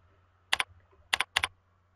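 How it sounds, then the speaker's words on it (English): A password being typed on a computer keyboard: three quick key presses, a single tap then a close pair, sharp and near against a quiet background hum. "I'm just going to make sure I type this in correctly."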